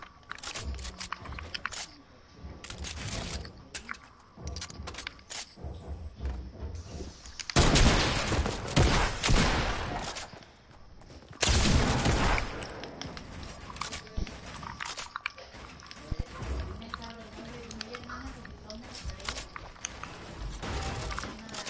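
Gunfire rattles from a shooting video game in repeated bursts, with louder dense volleys around the middle and quieter stretches between them.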